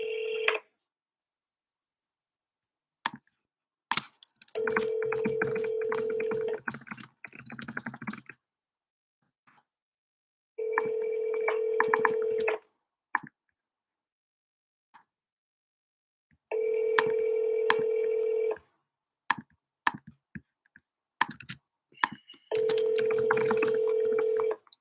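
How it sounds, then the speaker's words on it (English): A telephone keypad dialed by hand sends out rapid strings of DTMF touch-tones in five separate bursts, each several seconds long, with silence or faint clicks between them. "Trying to dial these correctly."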